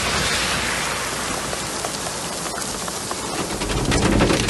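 Heavy rain downpour during a rainy day in Taif, a dense, steady roar of water pouring onto surfaces, loud and close throughout, swelling slightly toward the end.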